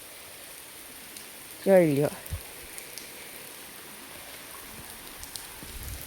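Rain falling steadily over the village of Mohabbatpara, a soft continuous hiss throughout, with a person speaking briefly near the start.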